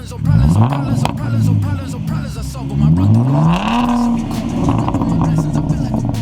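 A Ford Mustang engine revs in repeated rising and falling surges as the throttle is pressed, loud and close, with people talking over it.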